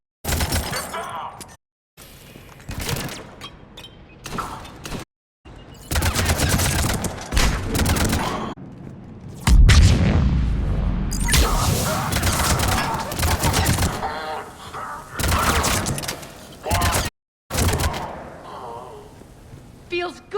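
Bursts of rapid gunfire and impacts from a Mass Effect 3 firefight on Omega, loud and close, coming in clusters separated by short silences, with shouted combat voices over the shooting and a heavy blast partway through.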